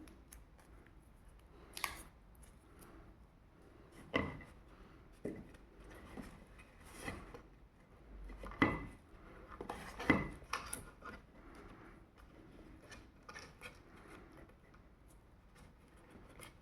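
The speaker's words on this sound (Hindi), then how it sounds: "सेलो टेप चलिए हम लोग लगाते हैं।" Sellotape pulled from the roll and pressed onto a handmade cardboard battle tank model: several sharp tearing and sticking bursts with quiet handling in between, close and fairly faint, no talking.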